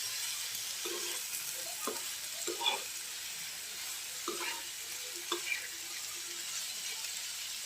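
Chopped carrots, onion, potatoes and peas frying in a pan, a soft steady sizzle with occasional scraping stirs and clinks of a utensil, fairly quiet and close.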